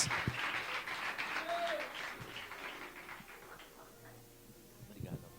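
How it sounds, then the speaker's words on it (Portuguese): A church congregation applauds as an apostle is welcomed to the front, the clapping loudest at first and then thinning and fading toward a quieter close with a few scattered claps. "Aplauda ao Senhor bem forte"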